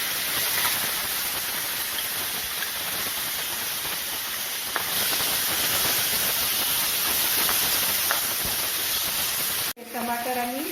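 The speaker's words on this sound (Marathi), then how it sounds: "टमाटर आणि कांदा परतून होत आलेला आहे" Tomato and crushed onion sautéing in a pan for spicy Kolhapuri misal give a steady, close sizzling hiss that runs continuously, ending in a brief sharp clatter.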